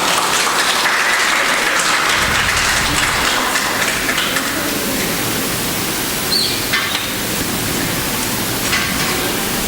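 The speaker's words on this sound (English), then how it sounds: "Can we have a round of applause?" Audience applause fills a conference hall at a 2024 workplace conclave, loud, dense and sustained, with steady clapping throughout and no talk over it.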